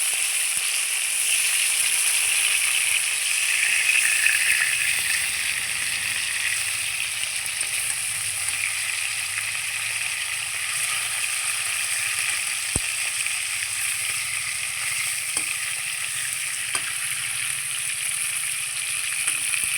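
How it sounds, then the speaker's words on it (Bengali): Pieces of katla fish fry in hot oil with a steady, continuous sizzle that stays even throughout, broken by a few faint clicks of a utensil. "এই পিসটা একটু ভেজে নেব"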